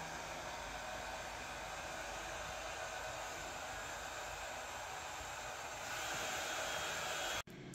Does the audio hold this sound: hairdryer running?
yes